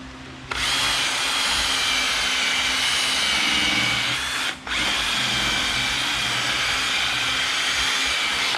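A Ryobi power tool runs wide open with a loud, continuous high-pitched whir, cutting out for a split second midway before spinning straight back up to full speed.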